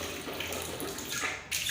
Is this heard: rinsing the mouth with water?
yes